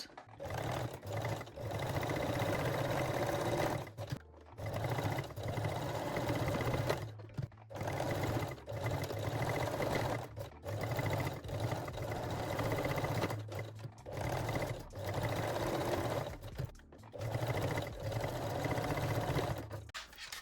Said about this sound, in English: we will sew all the rings, hooks, loops and everything with the small zigzag stitch